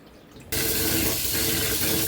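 Tap water suddenly starts running into a vessel of rice being washed for idli, a loud steady splashing gush that begins after half a second of quiet and continues to the end.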